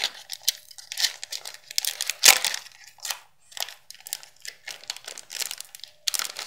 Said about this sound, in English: Let's open these boosters up and see what they have in store for us.